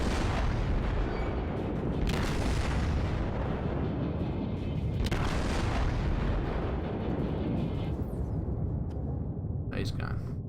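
Battleship main guns firing in the World of Warships video game, heavy booming salvos with rumbling blasts and roaring explosions layered densely, a voice talking over the action.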